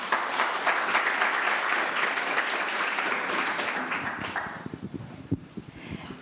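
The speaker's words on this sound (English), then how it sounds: "please give them a round of applause as we get started" An audience at a health event panel gives a round of applause, a full, even clapping from many people that gradually thins into scattered individual claps and taps before dying away.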